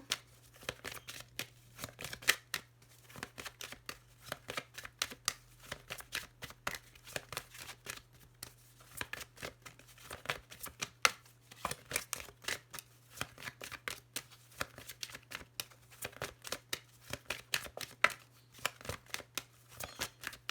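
Oracle cards used in a tarot-style reading are shuffled steadily by hand, a long run of quick papery riffles and flicks, close and fairly quiet, with a constant low hum beneath and no talking.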